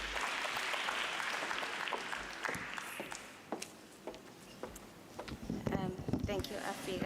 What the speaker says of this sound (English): Give a round of applause, please.